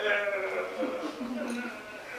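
A voices a sheep's bleat, a wavering, nasal baa held for about two seconds, close and fairly quiet, imitating a lost sheep in a story told in a church setting.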